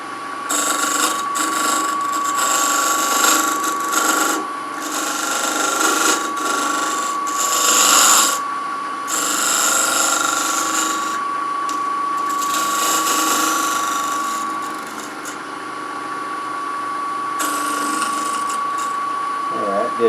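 A small skew chisel cuts cherry burl on a spinning wood lathe. It makes intermittent bursts of high scraping and chattering against a steady motor whine, broken by short pauses.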